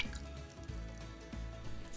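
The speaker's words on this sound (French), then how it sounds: "On y verse les 300 ml d'eau" Water trickling and dripping into a medium saucepan, a steady liquid flow with low gurgling surges, close by and with no voices.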